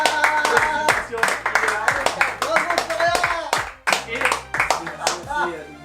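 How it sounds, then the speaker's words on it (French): An audience applauds the announced winner at a magic contest, with sharp, distinct claps in an uneven rhythm that pulse through the whole stretch while a person keeps talking over them. "Florian, bravo, on peut l'applaudir."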